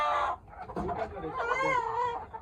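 Tiger chickens and desi chickens kept together cluck and squawk close by in a short burst of overlapping calls, with a rising, drawn-out cackle.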